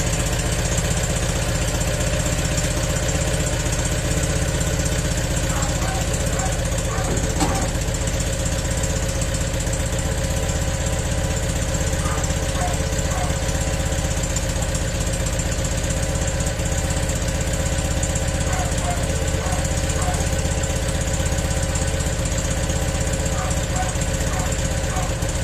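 A Citroën 2CV Type A engine ticks over at a steady, even idle, its continuous mechanical drone running unbroken and fairly close throughout, with a faint voice now and then.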